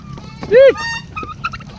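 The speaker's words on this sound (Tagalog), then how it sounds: "Yan mga pabo." Nearby turkeys being fed give warbling, honking gobbles in quick bursts, over a low rumble of background noise.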